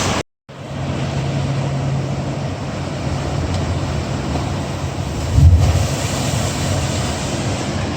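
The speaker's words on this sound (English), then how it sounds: "A cool cave that just shoots water out of it when the waves come in" Ocean waves surge into the rocky spitting caves on the Hawaii coast, a loud continuous roar and hiss of rushing water with wind buffeting the microphone and a heavier surge near the end.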